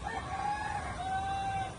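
Hens and a rooster in a pen of six hens and one rooster, giving a short crow-like call at moderate distance over a steady background hiss.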